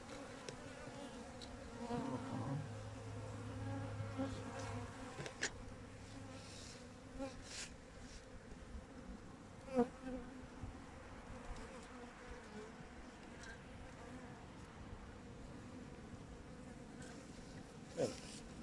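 Honeybees hum steadily around a weak three-frame hive, a dense continuous buzz with occasional louder passes and light knocks of frames.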